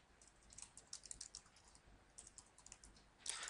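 Quiet, rapid keyboard typing in irregular bursts of key clicks, with a short pause and a louder flurry at the end.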